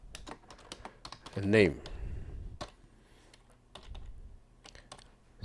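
Keys clatter on a computer keyboard in short irregular bursts while entering a name into a program prompt, with a voice briefly speaking over the clicks.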